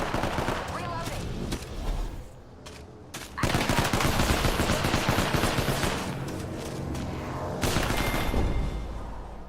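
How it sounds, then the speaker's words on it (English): Rapid automatic gunfire crackles in a shooter video game, bursts of loud shots with a short lull in the middle, mixed with a player's voice talking over the action. "I'm down. Taking fire. Reloading."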